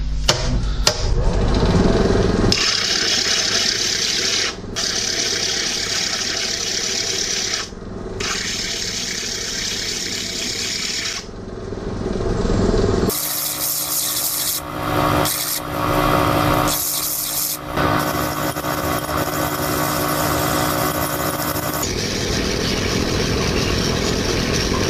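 A stone-cutting machine cuts lapis lazuli into an oval shape, making a loud, continuous grinding whir with wet hissing. The tone shifts and briefly dips as the cut changes, and no one speaks.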